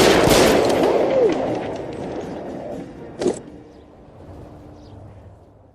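Gunfire in L.A. Noire, a loud burst of shots at the start that fades into echo, then one sharp single shot a few seconds later.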